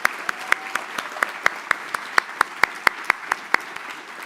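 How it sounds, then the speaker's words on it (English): A scholarship banquet audience claps for first-generation students, a thinned-out round of distinct, evenly spaced hand claps that carries on steadily with no talking. "to applaud all our first-generation students who are here"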